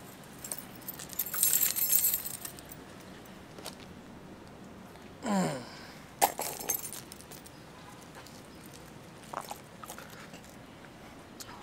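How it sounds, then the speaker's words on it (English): A bunch of keys is picked up and shaken, giving bright metallic jingles in a couple of short bursts between quieter handling noises, up close over a low background hiss. "let me grab my keys."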